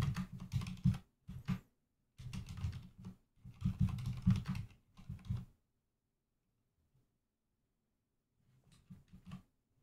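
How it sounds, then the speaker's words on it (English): Fast bursts of typing on a computer keyboard during a live day-trading session, clacking in several clusters with pauses, then a quieter patch of keystrokes near the end; no talk. "You like the sound of when I'm typing like that."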